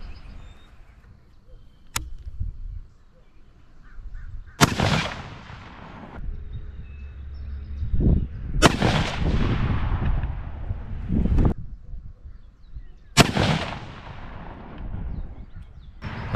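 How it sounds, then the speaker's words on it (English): Rifle shots fired for a three-shot group during a velocity and accuracy test, three sharp loud cracks spaced several seconds apart, each followed by a long rolling echo outdoors, plus one smaller click-like pop early on. "so I shot my first three shot group"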